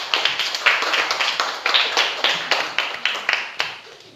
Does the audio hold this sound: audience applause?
yes